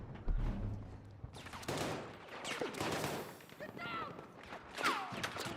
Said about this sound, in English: running away from gunfire is you're bad